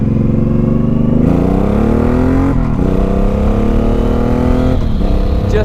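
A motorbike accelerates hard up to a 35 mph limit, its loud, close engine rising in pitch through several gear changes with brief dips between pulls.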